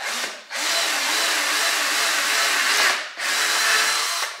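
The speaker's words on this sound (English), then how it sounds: "Definitely not pushing very hard with the drill." A handheld power drill bores through leftover fiberboard in two close, loud bursts of whining, grinding cutting with a short pause between them. The bit works under light pressure, and no one talks.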